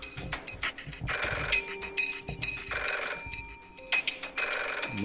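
A telephone rings as the banker calls in a scratch-ticket deal game, repeated electronic ring bursts in a steady pattern, close and clear with no talking.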